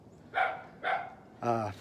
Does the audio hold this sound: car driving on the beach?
no